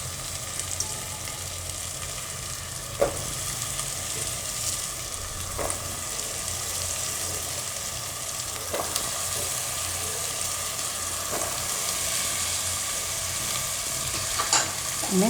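Potatoes frying with green pigeon peas in a pan, a constant close sizzle broken every few seconds by scraping spatula strokes as the mixture is stirred, no voices.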